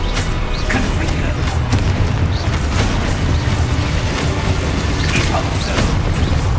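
Explosive Confringo spell blasts in Hogwarts Legacy, heavy booming rumble with crackling bursts layered over dense combat noise, loud and continuous across the moment.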